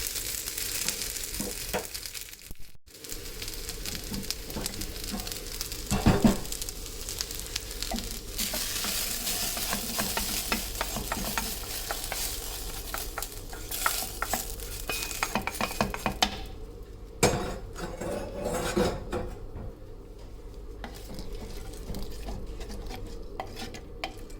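Greens (keerai) stirred and sautéed in a frying pan for keerai kadayal, a steady sizzle under repeated scraping and clinking of a spoon against the pan, with no one talking.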